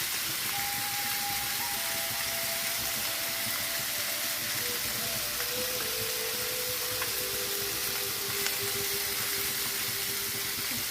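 Fish fries in oil in a pan for a crispy fish fry, a steady, dense sizzling hiss that stays even and close throughout with no talking.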